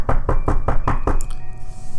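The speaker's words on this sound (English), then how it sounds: "when I heard a knock at the door" A quick series of about six sharp, evenly spaced knocks on a door in a home, close and loud, followed by a brief quiet tail.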